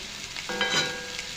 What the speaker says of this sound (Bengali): আলু পেঁয়াজ কাঁচা লঙ্কা ভাজি